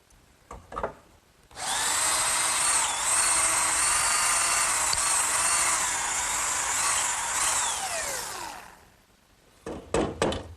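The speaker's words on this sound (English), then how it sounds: "And now I want to drill 2 more holes right up through these 2x4s." A power drill bores holes up through 2x4 lumber, starting abruptly and whining at a steady, loud pitch for about seven seconds before winding down, with brief handling knocks before and after.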